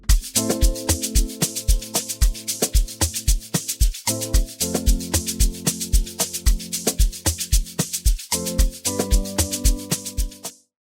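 Three stacked Amapiano chord synths play together in FL Studio, producing dense sustained chords over a steady, punchy percussive pulse, loud and alone, with a few chord changes before cutting off abruptly near the end.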